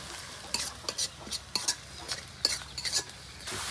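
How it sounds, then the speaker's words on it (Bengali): Chopped onion lightly frying in a pan, a soft sizzle under repeated close scraping and tapping of a spoon against the metal in an uneven stirring rhythm. "পেঁয়াজটা হালকা ভাজনা হয়ে গেছে"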